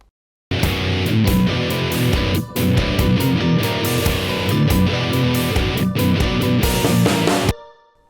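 Electric guitar riff recorded through a Boss GP-10 guitar processor, a dense, loud, rhythmic passage that plays alone for about seven seconds with short breaks before ending abruptly.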